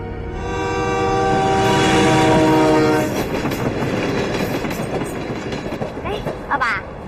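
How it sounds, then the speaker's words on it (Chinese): At a railway station a train horn blares loudly for about three seconds, then the rhythmic rumble and clatter of passing rail cars continues, with voices faintly underneath. "火车站呀！"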